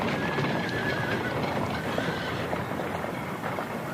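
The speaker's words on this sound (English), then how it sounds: "the horse took fright and bolted down the road with the man inside the caravan" A frightened horse bolts down a road pulling a caravan, with a dense, continuous clatter of hooves and a brief whinny in a busy, noisy sound effect from an audiobook.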